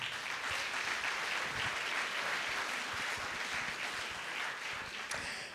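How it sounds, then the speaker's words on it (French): An evening audience applauds its president, Marco Landi, with sustained, even clapping from many hands at moderate distance, with no voices and a brief sharper accent near the end. "On peut l'applaudir s'il vous plaît."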